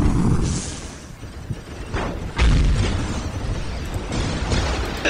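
Deep artillery booms rumble through a noisy Warhammer 40K video game battle scene, with one loud blast standing out midway among duller thuds.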